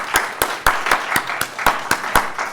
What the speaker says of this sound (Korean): 같이 격려 박수로 함께하기 원합니다.